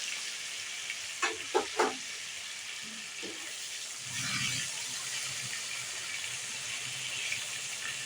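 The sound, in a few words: tomatoes and salt sautéing in a pan for fish curry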